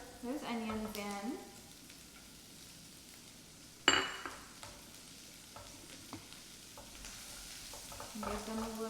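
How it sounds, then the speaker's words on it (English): Onions hit hot oil in a skillet, sizzling briefly at the start and again near the end, with a sharp clink of a utensil against the pan midway and quieter stirring between. "All right, so I'm starting to get some sizzle. So I'm gonna throw those onions in."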